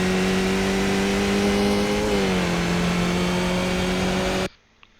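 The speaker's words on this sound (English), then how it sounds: "working up the gears." Skip Barber race car in the iRacing sim at Long Beach drones steadily at full throttle, its engine pitch dipping once as it shifts up a gear, then cutting out abruptly near the end.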